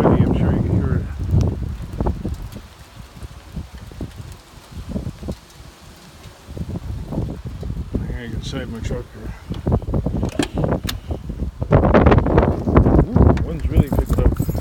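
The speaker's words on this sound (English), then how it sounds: "And it's getting windy. I'm sure you can hear it." Strong gusty wind ahead of a storm on a hot day roars and buffets the microphone outdoors, surging louder near the end, while someone talks over it.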